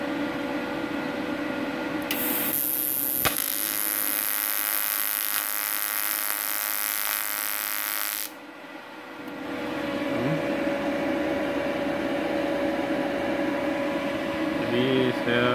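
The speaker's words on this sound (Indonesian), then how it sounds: "Jadi saya las lagi di bagian sini" A TIG welder works on thin metal, producing a steady high electrical buzz for several seconds before cutting off, with a low machine hum continuing alone underneath.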